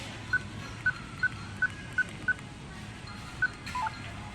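Phone keypad beeps at a store checkout counter as a number is entered, about eight short evenly spaced tones followed by a quick final pair, set against steady background room noise.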